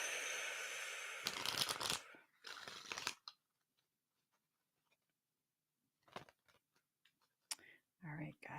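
Tarot cards riffled and shuffled close by in bursts, a long dense flurry at the start followed by a shorter one, then near silence broken by scattered light card taps and handling noises.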